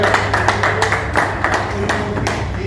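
People at an annual general meeting and election of a building welfare society clap in thanks to the election commissioner. Loud, close clapping comes in an uneven run of distinct claps over a low background hum.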